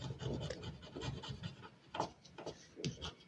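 Coin scraping a scratch-off card in short repeated rubbing strokes, close and fairly quiet, a few firmer scrapes standing out near the end; no voices.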